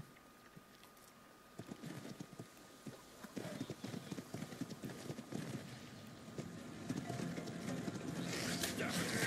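Horse hooves clip-clop steadily in the video game Ark, a rhythmic stream of quick hoof strikes that grows louder toward the end, mixed with faint background game sounds.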